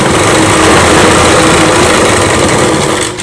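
Sewing machine stitching the upper side of a Rajputi kanchali blouse, a loud, close, continuous rapid mechanical whir held for about three seconds before slowing at the end.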